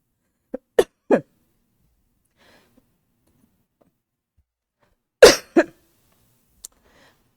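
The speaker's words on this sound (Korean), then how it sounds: "기침이 나면 계속 나는" Several sharp coughs in short bursts during a church sermon, a quick pair and a single early on, then a loud cluster of two or three later, with quiet stretches between.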